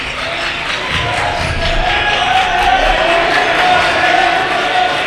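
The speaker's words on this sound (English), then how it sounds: "Crowd getting into it" Loud basketball gym crowd in a high school varsity game, Canterbury Cavaliers vs. Columbia City Eagles, roaring and shouting continuously, with whoops and a student section yelling close by.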